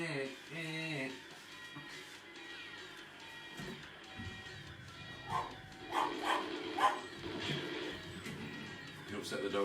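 Dogs bark, yip and whimper indoors in a string of short bursts, some clear and some muffled, mixed in with people talking nearby.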